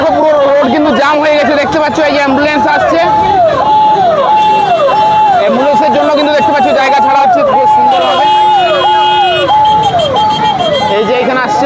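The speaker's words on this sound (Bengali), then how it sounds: "কত মানুষের ভিড় হয়েছে একবার" Dense festival crowd at the Bankura Rath Yatra, constant loud babble with a warbling siren-like tone and horns cutting through, voices talking close by.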